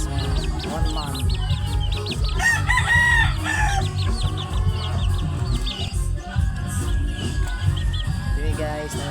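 Chickens on a small breeding farm clucking continuously, with a rooster crowing clearly in the middle amid a dense, steady backdrop of fowl calls.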